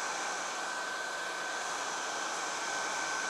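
A hair dryer blows a steady, even rush of air, held alone without a break, to dry watercolor paint.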